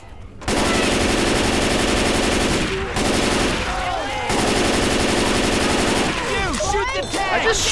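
Sustained automatic weapon fire in Left 4 Dead 2, a loud continuous machine-gun stream with short breaks, while zombie growls and effects sit underneath near the end.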